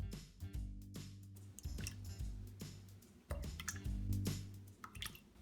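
Four eggs cracked into three cups of milk in a bowl, a series of sharp wet drips, splats and squishy plops landing in quick bursts close by, with faint clinks between them and no talking.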